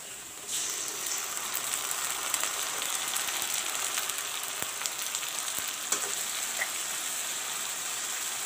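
Jeera and garlic paste sizzling and frying in hot oil with browned onions for Bengali-style aloo dum, a steady close hiss with occasional stirring clicks, starting abruptly after a brief quiet moment.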